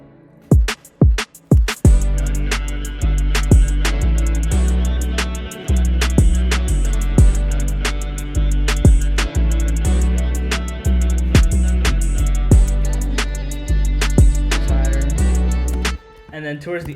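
Full electronic beat drop from a music production breakdown, with punchy kicks, sharp snares and stabbed, effected synth chords driving loud and steady, with a brief gap near the end.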